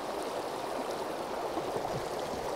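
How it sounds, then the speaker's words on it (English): The River Wharfe in Yorkshire flows steadily past, a continuous broadband rush of running water heard close and even throughout with no voices. "this is the River Wharfe"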